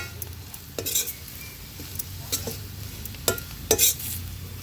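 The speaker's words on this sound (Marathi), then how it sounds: "आता वाटण पण तेलावर परतून घ्यायचे" Dry coconut paste sautéing in oil in a pan, a low steady sizzle with a few sharp spatula scrapes and taps spread through, close by.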